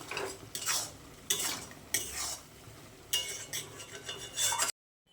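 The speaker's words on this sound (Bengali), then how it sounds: "তো সমস্ত মশলা দিয়ে ভালো করে কষিয়ে নিই" A utensil scraping and stirring spices frying in a pan, with bursts of clinking and scraping every second or so over a soft steady sizzle, close and fairly quiet, then cutting to silence.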